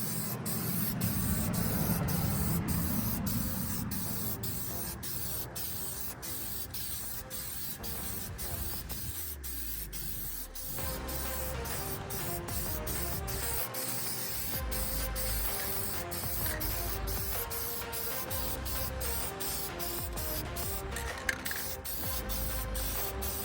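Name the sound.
spray painting a truck differential housing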